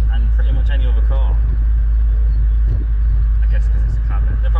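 Interior drone of a purple 23-year-old cabriolet on the road, a loud constant low rumble with road noise, while someone talks over it throughout.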